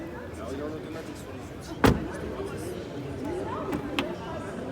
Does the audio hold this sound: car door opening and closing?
yes